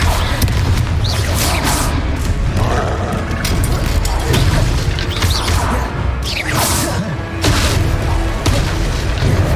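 Confringo spell explosions in the video game Hogwarts Legacy boom and crash loudly, in repeated blasts and whooshes over dense combat noise, with shouted voices mixed in.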